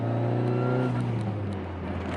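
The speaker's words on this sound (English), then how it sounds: "That's a good turbo noise." A 550+ hp turbocharged 2005 Dodge Neon ACR pulls hard with a loud, steady engine drone and turbo whir heard from inside the car, the tone easing slightly near the end.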